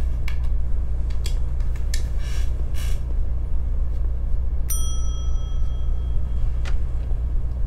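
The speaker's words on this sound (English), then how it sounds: "Let's ring a bell." A single bell rings out clearly in The Wolf Among Us, at the front desk of a motel-like building, with a sharp ding that hangs and fades over a constant low rumbling background hum.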